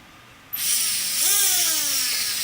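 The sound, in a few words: RC helicopter electric motor spinning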